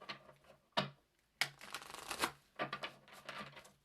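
Playing cards are shuffled in several quick riffling bursts, crisp and close, with short pauses between each pass.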